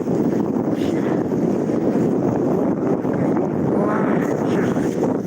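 Strong gusting wind in freezing Yakutsk buffets the microphone with a loud, continuous roar and rumble, steady throughout with slight surges.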